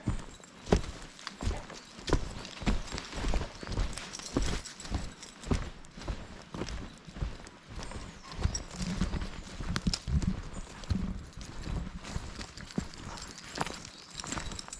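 Horse hooves clip-clop steadily on an estate path at Lissan House, County Tyrone, a close, rhythmic run of footfalls lasting throughout, with faint outdoor ambience behind.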